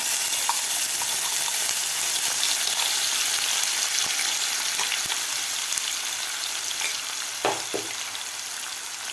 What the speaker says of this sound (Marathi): मसालासुद्धा आपल्याला व्यवस्थित तेल सुटेपर्यंत व्यवस्थित फ्राय करून घ्यायचा आहे